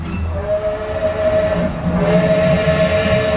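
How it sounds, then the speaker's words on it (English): Train whistle on the Polar Express holiday train ride at Chicago Union Station, a steady sustained tone over rumbling rail noise, loud and continuous for several seconds with no talking. "Our first sound is a train whistle, which sounds like this."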